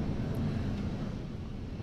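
SpaceX Falcon 9 rocket in flight near max Q during a satellite launch, a continuous low distant rumbling roar heard alone, steady and broad without pauses.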